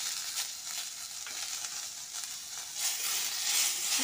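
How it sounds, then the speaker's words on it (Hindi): Ginger garlic paste sizzles with browned onions in hot oil while cooking egg biryani, a steady close hiss and crackle of frying throughout. "इसे भी 2 से 3 मिनट तक भून लेंगे ताकि लहसुन और अदरक का कच्चापन चला जाए।"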